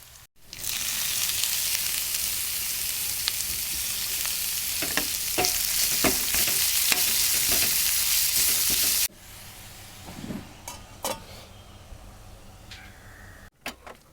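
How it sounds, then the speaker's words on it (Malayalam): Shallots, spinach and coconut masala stir-fried for Kerala thoran, a loud steady sizzle with scraping stirs for about nine seconds, then a quieter crackle with occasional clinks. "നമ്മളെ ചെറിയുള്ളിട്ട് മൂപ്പിച്ചിട്ട് നമ്മൾ കീര ഇട്ട് കൊടുക്കുക"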